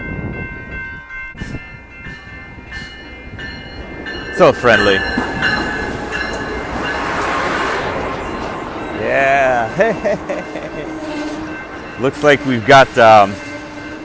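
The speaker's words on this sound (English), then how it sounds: "here it is, our lovely Amtrak train." An Amtrak passenger train rumbles past in Kirkwood with wheels clattering and a horn sounding in bursts, while people chat nearby.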